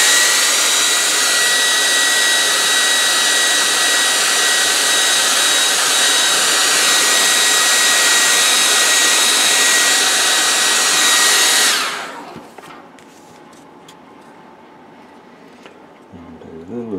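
A hair dryer blasts loudly and steadily across a carved bust of a Native American figure, running for about twelve seconds before switching off, leaving quiet handling noises.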